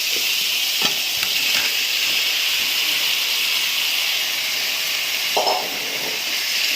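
Tomato and fish eggs frying in a pan, giving a loud steady sizzle and hiss throughout with a few soft stirring scrapes, and no talking.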